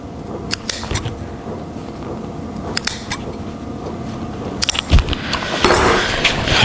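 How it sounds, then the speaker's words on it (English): Scissors clip relief cuts into the upholstery fabric of an automotive headrest, a handful of sharp close snips scattered among workshop rustling and a steady background hum, without talking. "got my relief cuts there"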